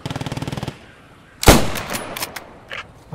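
Machine gun fire in the WWII shooter Squad 44, a rapid burst of evenly spaced loud shots followed by a heavy blast and scattered further shots, with no talking.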